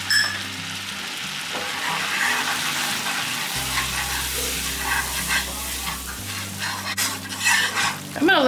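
Butter and flour cook together in a pan, a fine sizzle running throughout while a utensil stirs and scrapes with occasional clinks, close and fairly quiet, with no speech.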